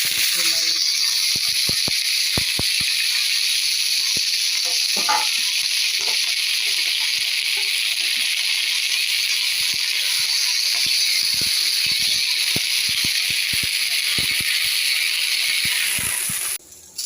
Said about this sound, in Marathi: ही गवार आपल्याला थोडीशी भाजून घ्यायची तेलावर